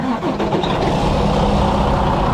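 A Freightliner truck engine starts up after a shutdown and settles into a loud, steady, rumbling run close by, with no voices.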